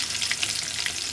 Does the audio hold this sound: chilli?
yes